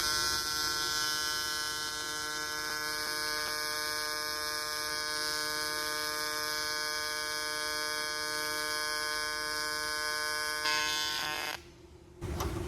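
A YesWelder TIG200P AC/DC TIG welder running a butt-joint bead on aluminum gives a steady, loud, even electric buzz that holds for about eleven seconds before cutting out abruptly.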